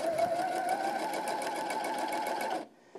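A sewing machine runs steadily while topstitching elastic on an all-in-one cloth diaper, with a fast, even mechanical whir that stops abruptly near the end.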